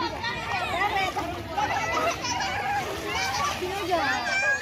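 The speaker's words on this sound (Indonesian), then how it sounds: "udah lumayan ramai anak-anak mandi ya di belakang" Children bathing and splashing at the sea on Babang Beach, a lively crowd of young voices, shouts and babble with splashes of water mixed in, fairly close and continuous.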